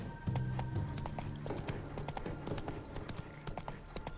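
Roach the horse galloping in The Witcher 3 video game, rapid rhythmic hoofbeats clip-clopping over a low background hum, with a faint snort or whinny and no talking.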